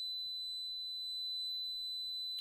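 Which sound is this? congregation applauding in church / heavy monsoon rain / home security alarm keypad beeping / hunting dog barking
home security alarm keypad beeping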